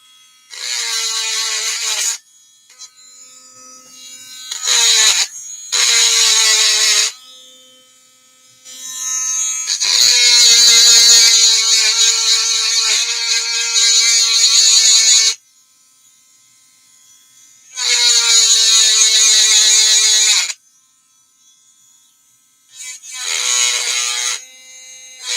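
Small power sanding tool grinding on a piece of jewelry, a loud high-pitched electric whine in repeated bursts of a few seconds each with quiet gaps between, close up.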